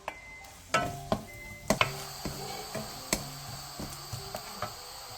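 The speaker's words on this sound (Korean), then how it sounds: "방울토마토와 가리비를 넣고 1분 정도 볶아주세요" Cherry tomatoes and scallops stir-frying in a bubbling sauce, a soft sizzle broken by a string of utensil knocks and clacks against the pan, several sharp ones early and lighter taps later, with no talking.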